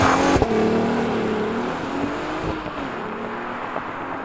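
Audi A3 3.2 with a manual gearbox accelerating hard from a standstill, the engine note rising in pitch, briefly dipping at a gear change, then climbing again, loud and close throughout with no talking.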